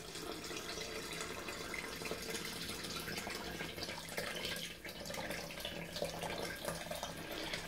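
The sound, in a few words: water poured from a tap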